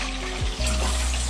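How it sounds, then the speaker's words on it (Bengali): Chicken pieces dropped into deep hot oil in a kadai, frying over a strong gas flame with a loud, steady bubbling sizzle that swells sharply as the pieces go in. "তো তেলের মধ্যে চিকেনগুলো দিয়ে দিলাম"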